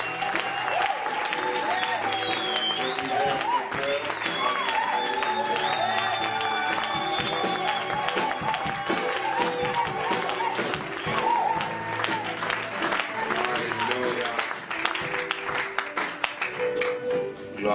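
A church congregation in Lubumbashi applauds and cheers for Jesus, a dense, sustained wash of clapping and shouting from a large crowd, loud throughout with voices mixed in.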